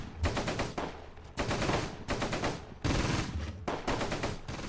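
Rapid bursts of machine-gun and rifle fire crackle in the Close Combat wargame, several loud volleys with brief pauses between them, no voices.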